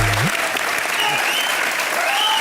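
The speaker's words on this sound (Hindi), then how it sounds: "जोरदार तालियां पूजा के।" A comedy show's studio audience claps loudly and continuously in a dense, sustained burst of applause, with a brief tonal musical sting at the start.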